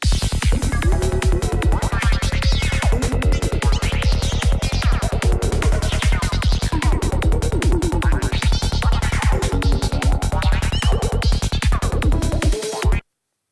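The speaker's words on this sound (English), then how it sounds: "So today we're going to be making this funky foresty lead which sounds like this." A funky forest psytrance lead synth built in Serum plays alone over a driving, pulsing rhythm, loud and continuous with rapid repeated notes and wobbling pitch movement, stopping abruptly at the end.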